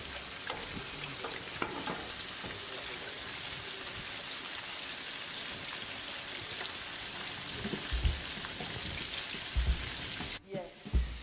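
Stock boiling away in a pot on the stove, a steady bubbling hiss held for about eleven seconds with a few soft clunks near the end, moderately close.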